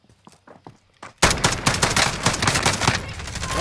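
Dense automatic gunfire erupts suddenly in a video game firefight, loud and close, following a few softer footsteps and taps, then continuing in rapid bursts.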